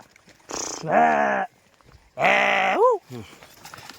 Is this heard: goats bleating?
yes